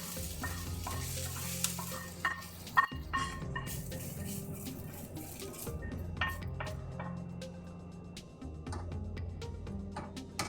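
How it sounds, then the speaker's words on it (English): Onions frying in a pan while a spoon stirs and scrapes them, a steady close sizzle broken by clinks and scraping strokes, with no talk throughout. "That's probably enough here on these onions just to get them a little bit of color"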